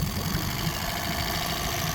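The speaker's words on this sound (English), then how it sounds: "That's as low as the idle will go on it." A 2001 Yamaha 8hp outboard motor idles at its lowest setting, giving a steady, close, continuous low engine rumble with no talking.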